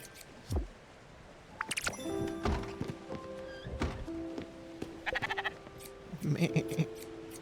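A sheep in the video game Spiritfarer lets out short, bright bleats among cartoonish thunks, clip-clop steps and other game effects, moderately loud and in repeated bursts.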